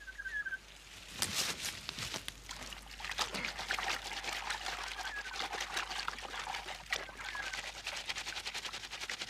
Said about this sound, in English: The trick with this tree is to crush the leaves up in the water